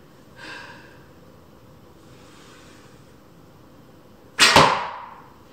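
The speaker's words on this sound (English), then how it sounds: "So I'm just going to shoot a second one" An arrow loosed from an archery bow lands with one sharp, loud impact near the end, preceded by a couple of soft whooshes over quiet outdoor ambience.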